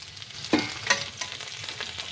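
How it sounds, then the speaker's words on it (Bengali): Pointed gourd and eggplant frying in hot oil as they are stirred, a steady soft sizzle with a few sharper scrapes and clinks of the spatula, close and fairly quiet, no talk. "নাড়াচাড়া করে দিচ্ছি তেলের মধ্যে যাতে সবগুলো ঠিকভাবে ভাজা হয়"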